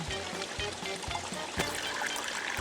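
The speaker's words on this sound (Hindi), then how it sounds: "शेरा ने तो इसमें आधी बोतल पानी डाला था, इसमें से इतना पानी कैसे निकल रहा है?" Water pours and trickles steadily from a schoolchild's math notebook in a Hindi kids' cartoon, with a continuous splashing stream, light drips and a brief splatter midway. No voices are heard.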